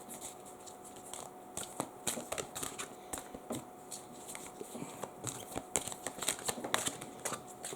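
Tarot cards shuffled by hand, a close, continuous run of soft riffling slaps and papery rustles with irregular bursts, no voices.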